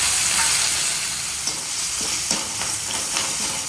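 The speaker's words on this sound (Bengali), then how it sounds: "দেবো সয়াবিন অয়েল, ফোড়ন দেবো সর্ষে, কারি পাতা, কাঁচা লঙ্কা।" Mustard seeds, curry leaves and green chilli frying in hot soybean oil give a steady close sizzle, with a few soft stirring clicks and no talking.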